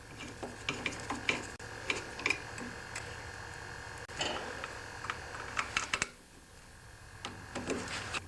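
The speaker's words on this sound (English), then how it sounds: "I'm just going to get this screw started here." A screw being turned into a Tecumseh snowblower carburetor, close small ratcheting clicks and metallic scrapes in short irregular bursts with brief pauses.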